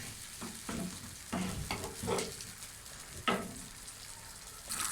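A masala of yogurt, tomato and spices fries over a low flame in a pan, with a soft steady sizzle broken by several scraping stirs of a spoon, close and fairly quiet.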